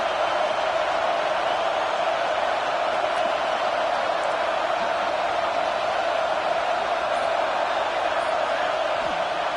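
A football stadium crowd roars steadily for the home defense at a USC versus Clemson game, a broad, even wash of cheering that sustains loudly without letup.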